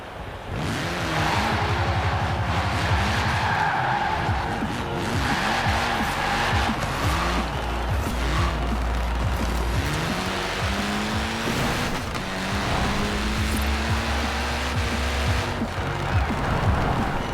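Race car engines roar and rev continuously while tires squeal repeatedly through turns in Forza Horizon 4, driving a Honda S800; a busy, loud stretch of game racing sounds.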